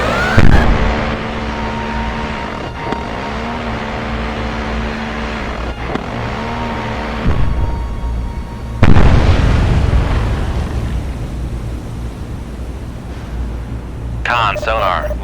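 A vertical launch missile fires from a cruiser in the Cold Waters submarine game as a sudden loud whooshing roar that fades slowly, after a stretch of steady tones and crew voices.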